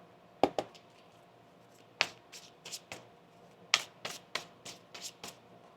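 Tarot cards being shuffled by hand, heard as a series of quiet, sharp riffling snaps spaced irregularly, close and alone with no talking.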